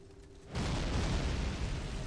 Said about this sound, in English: My cannons will turn these walls to rubble, Stefan.